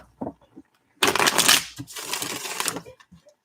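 Tarot deck being shuffled, a sharp riffling burst of cards followed by softer rustling and handling, close and clear between brief quiet gaps.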